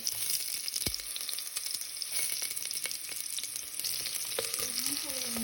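Onion frying in oil in a preheated pan for a pork stew with plenty of vegetables: a continuous, close sizzle with scattered pops and crackles, no voices.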